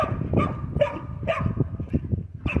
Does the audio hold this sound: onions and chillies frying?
no